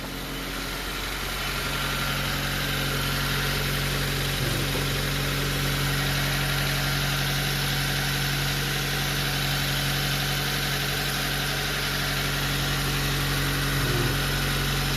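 A car engine idles steadily with a low, even hum and faint mechanical vibration, close and constant with no revving or speech, held for a warm-up run while its timing belt is due for a check.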